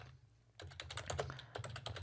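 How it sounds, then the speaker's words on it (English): Keystrokes on a computer keyboard, a quick run of close, crisp clicks starting after a brief quiet pause and continuing in an uneven burst, with no voices. "when we press any kind of button on the keyboard"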